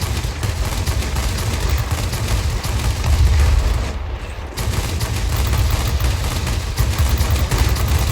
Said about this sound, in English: See what I mean by these cannons?